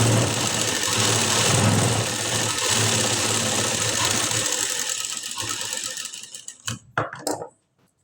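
A sewing machine stitches a blouse collar in a long, steady mechanical whir, close and loud, slowing near the end into a few separate clicks and knocks before falling silent.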